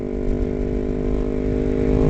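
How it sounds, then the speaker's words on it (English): A steady BMW motorcycle engine hums and rumbles continuously nearby, its low drone holding even throughout. "There's a motorcycle right there, look."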